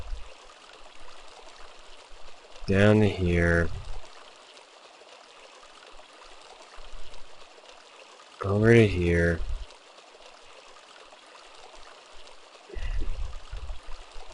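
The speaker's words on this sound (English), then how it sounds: "Now we got water coming down here." Water runs through pipes in the game Sanitarium as a steady, faint rushing stream, while someone talks over it in short bursts.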